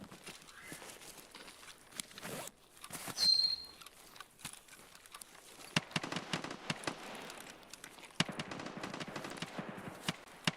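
Video game gunfire crackles in rapid bursts and single sharp shots, dense and busy throughout, with no talk over it.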